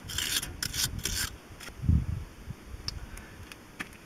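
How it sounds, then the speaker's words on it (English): A wire brush scrubbing rust and dirt off an IH 444 tractor brake shaft, giving a few short bursts of rasping strokes followed by scattered light scrapes and ticks, close and fairly quiet. "So our brake shaft here has a little bit of a buildup of rust and dirt, so we'll just take clean that off with a wire brush."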